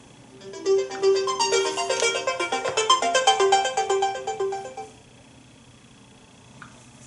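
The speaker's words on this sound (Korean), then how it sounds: "이것도 급한 전화인데" A phone ringtone plays a loud, repeating melodic tune for several seconds, then stops, leaving a quiet room.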